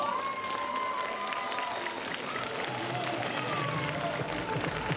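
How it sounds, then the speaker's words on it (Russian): Steady applause from a gymnastics festival audience fills the whole stretch, a dense wash of clapping with some crowd noise and faint voices. "Ваши аплодисменты."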